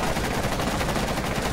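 Gunfire in Rainbow Six Siege forms a dense, continuous wall of loud shots and noise with no clear gaps between them.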